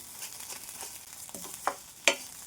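Dry spices and peanuts roasting in a pan for coconut karappodi give soft, scattered scraping and rustling stirs, with a few sharper clinks near the end; quiet and close, no talk.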